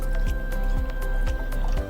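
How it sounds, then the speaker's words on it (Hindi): Packaged branded water goes into a glass in a series of distinct liquid drips and splashes, close and fairly loud over a steady low hum, with no speech. "तो यहाँ एक ग्लास में मैंने ये पानी भर दिया है।"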